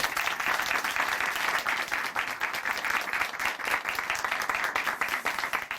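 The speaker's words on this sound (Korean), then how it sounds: "다시 한번 큰 박수 보내드리겠습니다" Audience applause in a Korean Christian testimony broadcast studio, a dense, even wash of many hands clapping that holds steady and fairly loud for several seconds with no voices over it.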